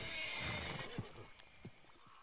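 A horse whinnies in Red Dead Redemption 2, a fairly loud neigh at the start, with hoof clip-clops and a few scattered thumps trailing through the short stretch.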